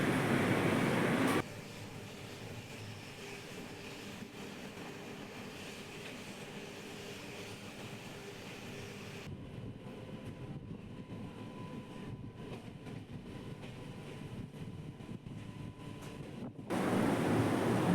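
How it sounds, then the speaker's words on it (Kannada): A train rumbles at Chikkaballapur railway station, a long low continuous roar with a fainter steady stretch in the middle, louder passages at the start and end, and no voices. "ಇದೇ ಚಿಕ್ಕಬಳ್ಳಾಪುರ ರೈಲು ನಿಲ್ದಾಣ"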